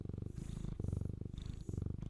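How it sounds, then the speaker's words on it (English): Close, loud purring from a cat held near the microphone, a steady rumbling pulse in repeated breath cycles with no other sounds. "You want to purr for the microphone?"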